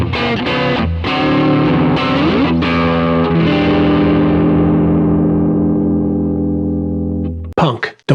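A distorted electric guitar plays a dad-rock style riff: a few loud, crunchy chords that ring out and slowly decay, with a brief burst of noise at the very end.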